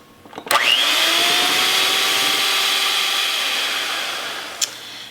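An electric mixer whips rhubarb and strawberry ice-cream mixture toward stiff peaks, switching on with a click into a loud, steady whining drone that holds for several seconds and dips slightly toward the end.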